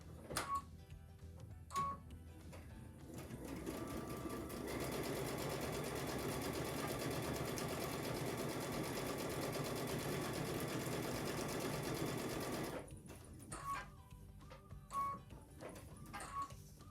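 A sewing machine stitches quilt units together in a steady sustained whir for about nine seconds, preceded and followed by quieter handling clicks and fabric movement nearby.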